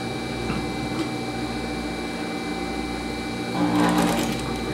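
A domestic sewing machine with a presser foot stitches around the curve of a dress collar, giving a steady, close mechanical whir that holds throughout and swells louder near the end.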